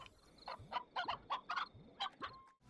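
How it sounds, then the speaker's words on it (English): Chickens in the Slime Rancher video game cluck in a quick irregular series of short, close calls, with no talking. "I see chickens!"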